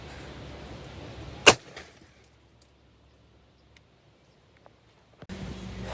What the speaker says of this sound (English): Mossberg 20 gauge. Buckshot.